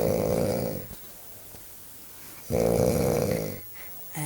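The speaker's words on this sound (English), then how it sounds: "I have never heard you snore like this in my life." A man snores loudly and close by, with two long rasping inhalations broken by a quieter stretch of breathing, ending on the start of another heavy snore.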